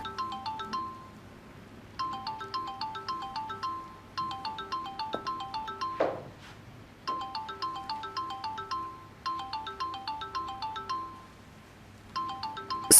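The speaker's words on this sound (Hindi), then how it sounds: "ये तो आमिर का फोन है।" A phone ringtone plays in repeating bursts of bright electronic melody, pausing briefly between rings, loud and close with no talking.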